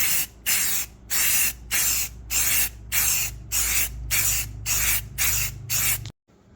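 Tan spray paint going onto a Toyota pickup in about nine short, even bursts from an aerosol can, loud, close hissing with brief gaps between passes, and no one talking.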